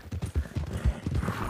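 Horse hooves in a video game clip-clop in a steady, quick rhythm, close and fairly loud, with no talking over them.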